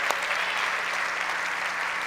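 A church congregation applauds during a service, a dense, even burst of clapping filling the room at moderate loudness with no voices over it.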